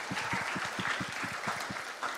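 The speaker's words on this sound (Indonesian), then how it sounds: "Tepuk tangan dong buat anak-anak SD kelas 6-nya." Crowd applause for grade 6 elementary students at a school graduation ceremony in Bandung: steady, dense clapping with a faint rhythmic thump underneath, continuing for the whole stretch.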